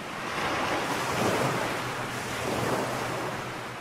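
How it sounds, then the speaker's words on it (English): Steady ocean surf rolls onto a beach under a wind-blown hiss, a continuous wash of waves at moderate loudness with no voices. "such as waves on the beach"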